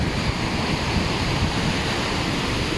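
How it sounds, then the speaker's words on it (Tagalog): Big ocean waves break at the sea in Kuwait in a constant, loud roar of surf, mixed with gusty wind buffeting the microphone and no voices. "Laki ng maalon no."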